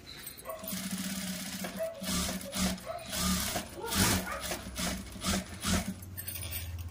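A sewing machine stitches double stitches on a blouse, its motor running in uneven bursts of rapid needle clatter, close and moderately loud, with a few rubbing handling noises between runs.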